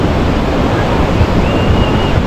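Steady ocean surf washing in at the water's edge on a busy Kuta beach in Bali, a continuous loud rushing roar with wind buffeting the microphone throughout.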